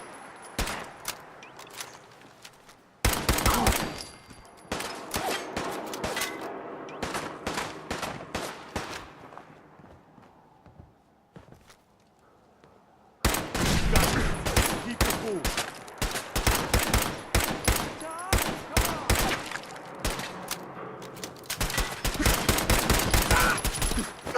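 Gunfire in Fallout 4 at Fort Hagen, long bursts of rapid automatic shots in dense clusters, with a quieter lull midway before another sustained loud stretch of firing.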